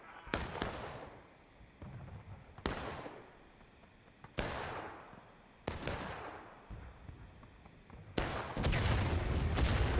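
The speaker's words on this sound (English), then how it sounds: "Confederate artillery forcing Union down the last stand" Artillery and musket fire in a large-scale Civil War battle video game: a series of sharp booming blasts a second or two apart, each trailing off, then ending in a dense, rolling volley of gunfire.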